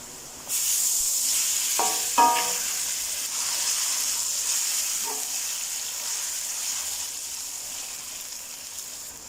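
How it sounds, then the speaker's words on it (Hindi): Ginger, garlic and green chilli paste drops into frying onions for a mutton maghaz masala fry, bursting into a steady loud sizzle with a brief clatter of utensils early on. "अभी इसमें अदरक लहसुन और सब्ज़ मिर्च का पेस्ट डाल देंगे।"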